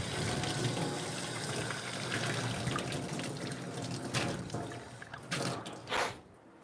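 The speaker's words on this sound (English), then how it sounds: "And just get her rinsed out." Tap water runs into a sink in a steady rush while espresso equipment is rinsed out, the flow breaking into uneven splashes and interruptions toward the end, close by with no talking.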